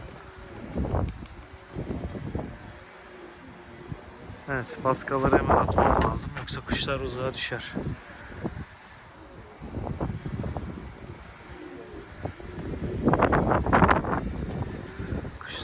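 Strong stormy wind buffets the microphone outdoors while pigeons are flown, gusting throughout under someone talking.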